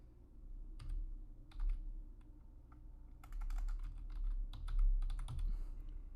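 Fast bursts of clicking keystrokes on a computer keyboard as someone enters a database query, with uneven pauses between runs of typing. The keys are close and moderately loud, and no one speaks.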